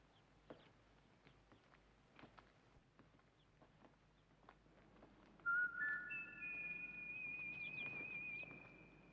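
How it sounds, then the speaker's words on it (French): A person whistling a thin, wavering tune that starts partway through and holds steady, quiet at first against faint rustling and scattered background noise. "Tu vois bien que c'est toi qui siffles là"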